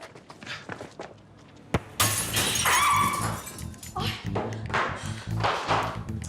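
A glass window pane shatters with a sudden loud crash and a spray of bright breaking shards, followed by thuds and movement while excited voices talk over and around it.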